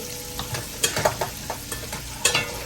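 Meat rendering its fat and crisping in a pot for one-pot pastalaya, with a steady sizzle broken by several clanking stirs and scrapes of a utensil, close and loud with no voices.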